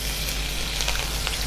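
Green chilies and popping mustard seeds frying in hot sunflower oil, a steady close sizzle with scattered crackles throughout, no talking.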